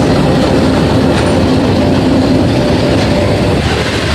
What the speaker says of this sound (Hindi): ओके जी, तो माशाल्लाह इनकी ट्रेन आ चुकी है।